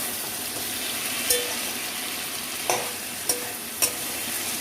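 Two bay leaves fried in hot oil with ginger, garlic and green chilli for red chicken curry: a constant even sizzle close by, broken by a few sharp clinks of a spoon on the pan, no speech.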